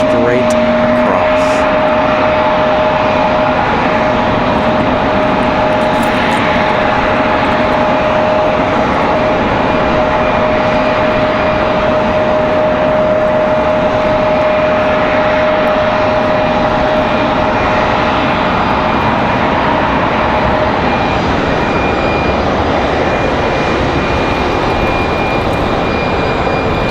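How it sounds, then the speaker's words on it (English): American Airlines Airbus A320-200 arriving at Raleigh-Durham airport in a strong crosswind, a continuous jet engine drone with a steady whine tone, loud and sustained, with some speech over it. "Our next arrival is American Airlines 2683 from Dallas Fort Worth, A320-200"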